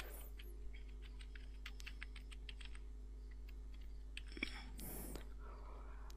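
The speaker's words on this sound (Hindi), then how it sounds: "नेम टाइप करने के बाद फ्रेंड्स सिंपली मैंने अपने कीबोर्ड की मदद से इंटर का बटन प्रेस किया" Keys clatter on a computer keyboard while a name is typed, a steady run of light, close clicks, then a louder burst near the end as the enter key is pressed.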